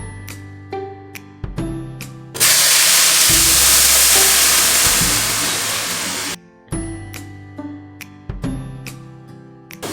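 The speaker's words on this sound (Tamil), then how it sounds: "கடுகு நல்லா பொரிஞ்சதுக்கப்புறம் உளுந்து சேர்த்துக்கிறோம்." Mustard seeds splutter in hot oil in a kadai, a loud, dense sizzling burst lasting about four seconds, with sharp clinks and a low hum before and after it.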